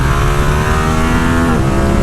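Yamaha R7 motorcycle at full throttle on a track, a loud, continuous high-revving engine roar with rising pitch and no talk.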